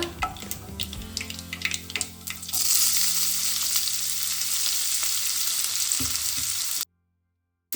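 Onion added to hot oil with mustard seeds and cumin sets off a sudden loud, steady sizzle after a few utensil clinks and taps, frying close by until the sound cuts off abruptly near the end, no talking.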